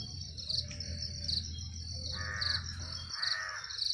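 Morning birdsong in a village: crows caw repeatedly at mid distance while high insect chirring and bright bird chirps run steadily throughout, with no talk.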